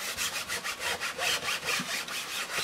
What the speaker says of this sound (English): I'm going to take a scraper to just kind of pick up all this excess paint